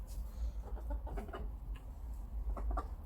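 Several chickens, including a white one, cluck softly nearby in short, scattered bursts over a low background hum.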